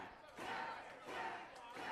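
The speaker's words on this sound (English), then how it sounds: "Could hear the crowd growling for Jack Pollock" A wrestling crowd at a World Series Wrestling show roars for Jack Pollock, the sound faint and distant with swells of massed voices rising and falling in waves.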